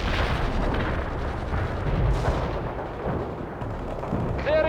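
Artillery strike in the military strategy game World in Conflict: dense, continuous rumbling explosions and heavy booming blasts, loud and sustained throughout with no clear pauses.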